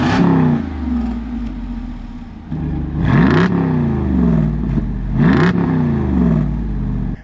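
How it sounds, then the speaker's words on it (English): A Jeep Wrangler Rubicon 392 with a HEMI V8 and a dual-mode exhaust revs hard three times, each rise in pitch followed by a fall. The sound is loud, close and deep. "It is a dual mode exhaust that you can make louder with the push of a button."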